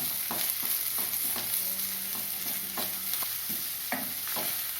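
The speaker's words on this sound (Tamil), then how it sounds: "இப்போ 4 வெங்காயம் நீள வாக்கில் அரிஞ்சு வச்சது, அதை சேர்த்துக்கலாம். அதை சேர்த்து வதக்கணும்." Four lengthwise-sliced onions sautéing in a pan after fried cloves, for a potato and capsicum masala: a constant close sizzling hiss broken by intermittent scraping stirs of a spatula.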